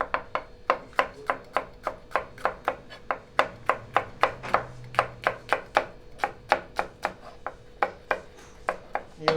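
Onions and capsicum chopped with a knife on a board in an Indian hotel kitchen: a steady run of about thirty crisp, evenly spaced, close-up knife strikes, with no talking.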